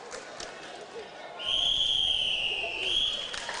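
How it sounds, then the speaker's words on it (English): A referee's whistle blows one long, loud, steady blast to end a netball match in a gymnasium, ringing out over a crowd's sudden rising roar and cheers. "That's the final whistle."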